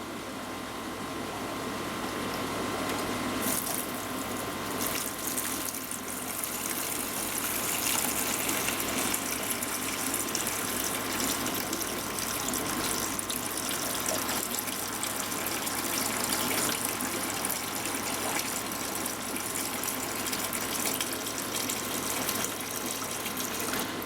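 Steady rushing water runs continuously with a hissing, gurgling flow, loud and close, as an aquarium siphon draws water and waste off the sand into a bucket.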